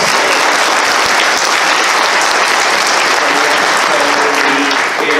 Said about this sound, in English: give our panelists a round of applause